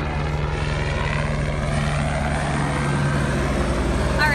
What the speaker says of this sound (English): We have a helicopter waiting for us.